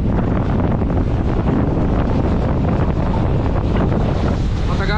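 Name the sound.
interior of a moving state transport (ST) bus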